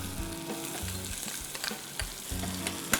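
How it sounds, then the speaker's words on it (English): Onions tossed into hot oil with green chilies, curry leaves and asafetida for an Indian dal, giving a steady close sizzle with spoon scrapes and a sharp clack near the end, no voices. "Now I'm going to throw in the onions."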